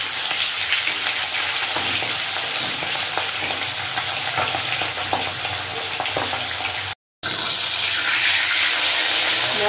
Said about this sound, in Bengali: মাছটা ভেজে নেব। মাছগুলো এক এক করে ভেজে নেব।